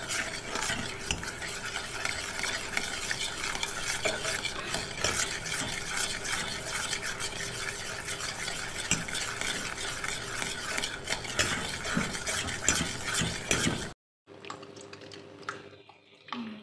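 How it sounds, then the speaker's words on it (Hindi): A spoon stirs a thin falooda sev mixture quickly while it cooks, a steady busy scraping and clinking that runs continuously and fairly loud, then drops away to quieter faint handling noise near the end. "लिक्विड सा इसे बनाना है, तेज़ तेज़ चम्मच हिला के।"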